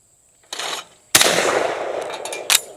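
Two loud shots from a CZ 241 wood-paneled, three-shot long recoil shotgun fired close by, each followed by mechanical action noise and a clack near the end.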